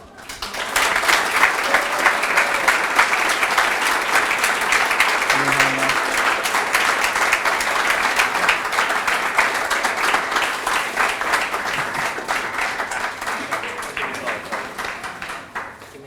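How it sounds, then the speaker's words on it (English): A large audience at a graduate medical education graduation ceremony claps in sustained, loud, dense applause that holds steady for about fifteen seconds before tapering off. "let's give a big round of applause to this year's Preceptor of the Year, Dr. Michael Schild."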